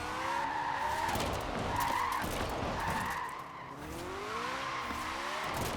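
A small car drifts sideways through reverse entries in the Forza Horizon 4 racing game, its tires squealing in long sliding waves over a steady engine drone, with the pitch rising and falling as the slide shifts.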